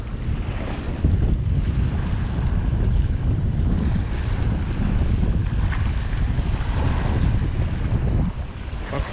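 Strong wind buffets the microphone on a beach shore, a loud continuous roar with low rumbling gusts and surf beneath, steady throughout with no talking.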